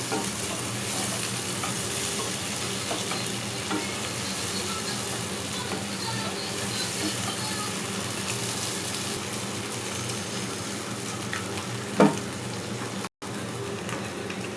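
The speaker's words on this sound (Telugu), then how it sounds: "కారానికి పట్టినట్టుగా గుడ్లు కలుపుకొని కొంచెంసేపు మత పెట్టుకొని నూనెలో బాగా వేగితే" Eggs mixed with large onion and chili powder fry in oil, giving a steady, dense sizzle that holds evenly throughout, with one brief knock near the end.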